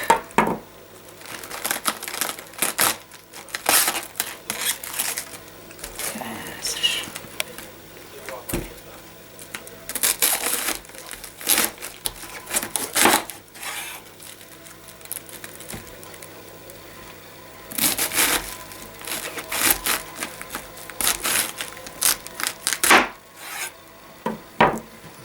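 Cabbage is cut up for a dish, giving repeated crisp rasping and crunching strokes in irregular bursts, close and fairly loud, with brief pauses between runs.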